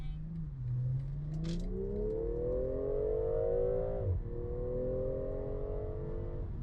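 A BMW M340i's engine revs rising steadily in pitch as it accelerates hard in sport mode, briefly dropping at a gear shift before climbing again, loud and close.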